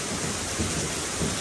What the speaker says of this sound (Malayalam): മഴ കുറഞ്ഞില്ല കേട്ടോ.